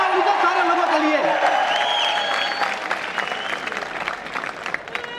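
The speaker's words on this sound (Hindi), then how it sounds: "तालियां उनके सारे लोगों के लिए।" Seminar audience applauding at a wellness company event in Jaipur, a sustained crowd clap with a few whoops, voices heard over the start before the clapping thins toward the end.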